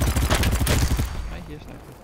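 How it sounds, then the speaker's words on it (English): Gunfire in the shooter game BattleBit Remastered, heard as a dense burst of loud, close shots for about a second that then fades into quieter rumble and background noise. "I hear a sniper."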